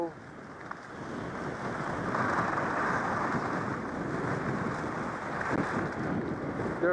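Snow guns at a ski resort blowing snow, a broad steady whooshing rush mixed with wind buffeting the microphone, constant and moderately loud.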